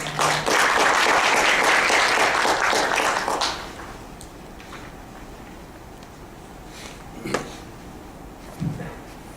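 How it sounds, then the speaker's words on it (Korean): Audience applause for a professor introduced to give a lecture on project-based learning at a Korean university session: loud, dense clapping for about three and a half seconds, then fading to scattered faint claps and room noise. "큰 박수 부탁드리겠습니다."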